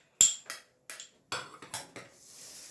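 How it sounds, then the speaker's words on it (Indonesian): Flour, cornstarch and baking powder stirred together in a bowl for a moist sponge cake: a series of sharp, close clinks and taps of a utensil against the bowl in an uneven rhythm, ending in a soft scrape. "Dan kita aduk rata"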